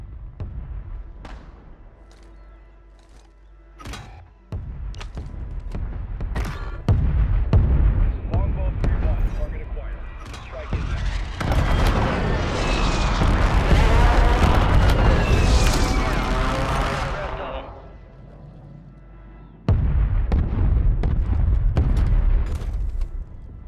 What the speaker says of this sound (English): Bombs inbound.